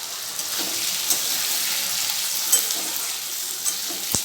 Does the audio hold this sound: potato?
yes